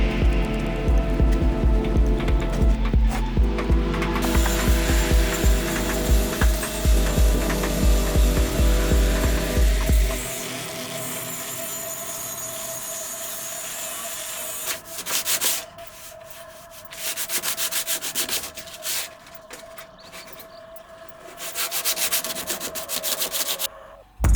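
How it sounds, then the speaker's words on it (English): Steady, loud rubbing of sanding on a wooden RC model boat hull fills the first half, then gives way to quieter, intermittent scraping strokes with pauses between them. "followed by sanding everything down again"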